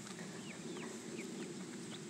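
Backyard chickens, an Ameraucana-type flock, cluck and chirp in short scattered calls over a steady low outdoor hum, moderately close and fairly soft throughout.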